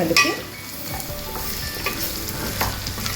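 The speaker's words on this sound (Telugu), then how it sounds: "ములక్కాయ ముక్కలు వేసాను కదండి, ఇదిగోనండి అలా రంగు మారేంత వరకు కూడా మనము నూనెలో వేయించాలి." Drumstick pieces fry with onions in hot oil, crackling and sizzling close by while a spatula scrapes and stirs in uneven strokes; no voices.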